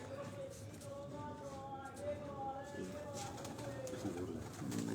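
Flown pigeons in a fancier's breeding setup in Lahore coo softly in a low, rolling rhythm, mixed with a voice and faint background bustle.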